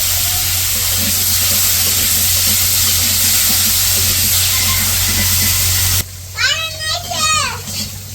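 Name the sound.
potatoes frying in oil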